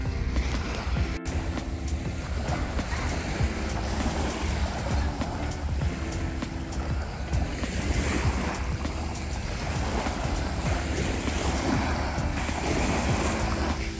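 Sea waves washing onto Al Heera Beach in Sharjah, a steady broadband roar of surf with wind buffeting the microphone, continuous and fairly loud with no talking.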